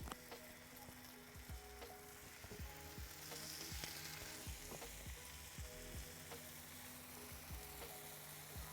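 Pepper bacon strips fry on a griddle atop a Big Green Egg, a steady close sizzle with frequent crisp pops and crackles and some scraping and stirring, continuing without voices throughout.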